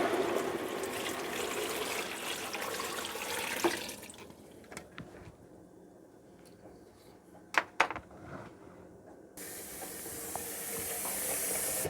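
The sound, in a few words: water poured into a pot of cut apples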